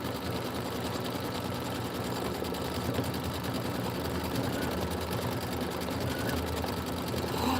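A sewing and embroidery machine stitches out a Kimberbell County Blooms pillow with a steady, continuous mechanical whir and rapid needle chatter throughout, close and even in level.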